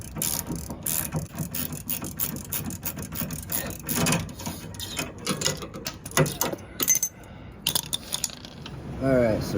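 A ratchet wrench turns the sway bar link nut on a 2015 Jeep Grand Cherokee front suspension, giving dense, close metallic clicking bursts throughout with clanks of tools in between.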